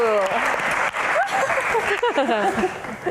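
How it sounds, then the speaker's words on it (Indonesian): An audience claps at a pageant question-and-answer session, brief applause mixed with loud overlapping voices and tonal sounds that dominate the mix. "Tepuk tangan dulu dong."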